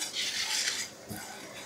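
Dry scraping and light clinking of a utensil stirring spices dry-roasting in a pan, a steady gritty shuffle with a brief thud near the end.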